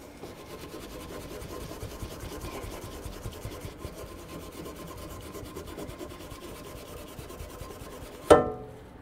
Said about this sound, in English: Let's use a Brillo pad.